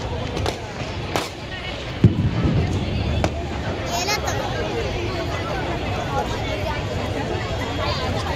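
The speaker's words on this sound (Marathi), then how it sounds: "आता फटाक्यांची आतिषबाजी होणार आहे" Fireworks burst at the Shivaji Park Diwali Deepotsav in Dadar, Mumbai, a few distant booms and pops over steady crowd hubbub and people talking nearby.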